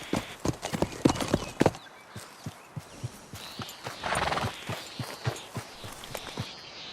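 A Missouri Foxtrotter horse in Red Dead Redemption 2 gallops with rapid, close hoofbeats, then slows to a steadier clip-clop while letting out a loud, drawn-out whinny partway through.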